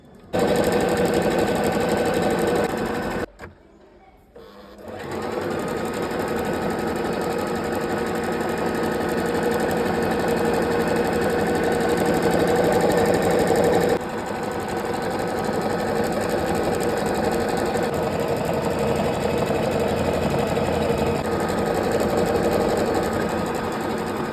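A Pfaff Smarter sewing machine stitches a trouser hem with a steady, fast mechanical whirr. A brief pause near the start breaks the run, then it hums on continuously and close by.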